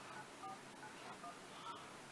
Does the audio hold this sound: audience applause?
no